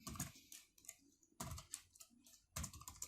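Quiet typing on a computer keyboard comes in three short bursts of clicking keystrokes, each lasting about a second, with brief silent gaps between them.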